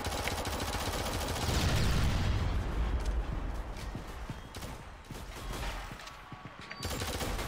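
Dense, continuous gunfire and weapon sounds from the video game Shadowgun Legends in a PvP match fill the whole stretch at steady loudness, with a few brief mechanical clicks mixed in.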